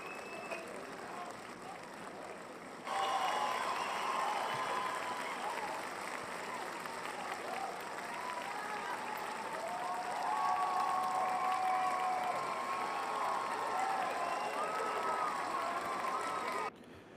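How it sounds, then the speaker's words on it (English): A large crowd at an NFL divisional playoff game between the Los Angeles Rams and Philadelphia applauds and roars in a dense, continuous wash that swells partway through and holds steady before cutting off. "They deserve a round of applause."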